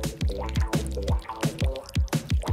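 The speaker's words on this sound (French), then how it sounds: "Tout d'abord, ajoutons du miel." Honey poured into a mixture being made for a homemade toy, heard as a close run of wet drips and sticky squishing splats in an uneven rhythm, with no talking.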